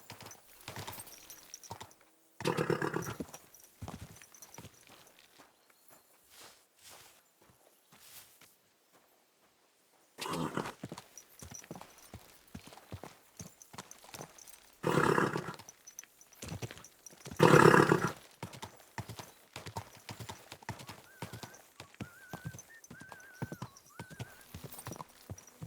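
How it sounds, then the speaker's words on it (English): In the medieval video game Kingdom Come: Deliverance II, a horse's hooves clip-clop in a steady trotting rhythm with brief pauses, and the horse gives a couple of loud neighs and snorts, close and with no talk. "Easy, good horse."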